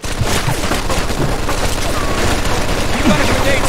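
Dense, continuous machine gun fire rattles through a Mafia 2 shootout, loud and sustained, with occasional heavier booms and voices shouting underneath.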